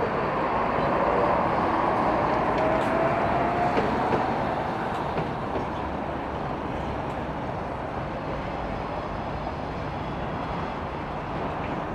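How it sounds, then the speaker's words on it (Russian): A tram rumbles steadily through a street intersection amid traffic, its wheels giving a drawn-out metallic squeal, loud and close throughout. "Вот тут вот трамвай 19, еще семерка здесь ходит."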